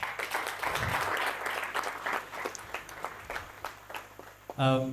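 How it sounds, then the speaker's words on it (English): Scattered clapping from a small crowd at a training center graduation, a few seconds of uneven applause that thins out, followed by a brief voice. "Please clap for the training center."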